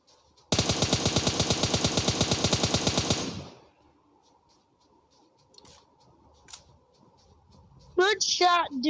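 Automatic gunfire from PUBG Mobile on the snowy Vikendi map: a rapid, loud, evenly spaced burst of about three seconds, then near silence with faint distant pops, before a player starts talking at the end.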